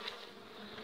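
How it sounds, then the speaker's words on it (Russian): Honeybees buzz over a beehive frame, a steady, close, fairly faint droning hum lasting under a second with no talk over it. "Вторая рамка с пчелой."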